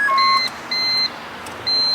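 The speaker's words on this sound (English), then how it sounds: "This alarm is probably from like the 90s. It's the most predictable alarm." A 1990s car alarm on a Honda Civic EK hatchback chirps in a steady, evenly spaced electronic pattern, three loud high beeps close by with short gaps between them.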